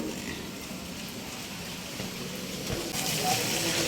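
Rain falls around an outdoor shop, a soft, steady patter and hiss that swells a little louder toward the end.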